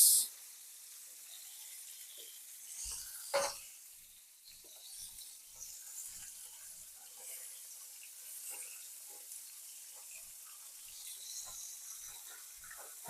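Chicken for sweet soy rice bowls fries in hot oil with a steady, soft sizzling hiss and scattered small pops and crackles. It runs continuously and fairly quietly, with one louder clatter early on and no talk.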